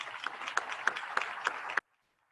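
Brief audience applause at a Forty Under 40 awards evening for the Tippy College of Business sponsors, soft and distant with a few sharper claps, ending suddenly after under two seconds.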